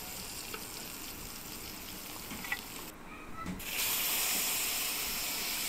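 Fish frying in oil in a pan gives a steady, close hiss of sizzling that dips briefly, then returns louder and brighter, with no talking.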